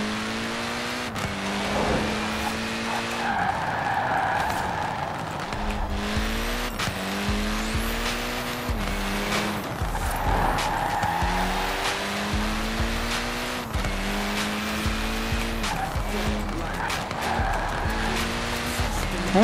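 A Honda NSX-R in Forza Horizon 4 revs hard through gear changes, its engine climbing and dropping repeatedly while the tires squeal through skidding corners.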